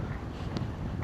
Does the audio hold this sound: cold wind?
yes